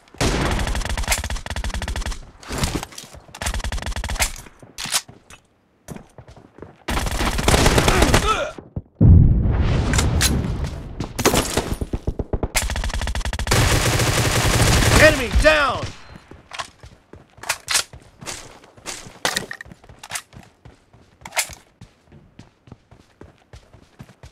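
Dense video game gunfire in a team deathmatch: rapid automatic bursts and repeated loud shots in long clusters, with brief pauses and a quieter tail of scattered shots near the end.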